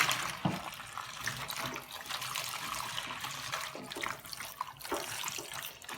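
Water running while an old wig is washed in a sink, a faint steady splashing trickle with soft irregular sloshes and drips.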